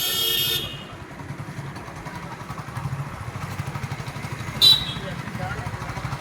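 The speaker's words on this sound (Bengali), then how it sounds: "দেখুন বাইকে করে যাচ্ছে তিনজন মিলে।" A motorcycle carrying three riders passes on a street by a lake, its engine a steady close putter, with a short horn toot near the end and a brief sharp sound at the start.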